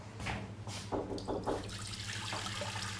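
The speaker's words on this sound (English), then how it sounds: "Just gonna use this to get some water." Tap water runs steadily into a kitchen pot being filled for boiling chicken, a broad continuous splashing rush at moderate level with a low hum underneath, alone with no talk.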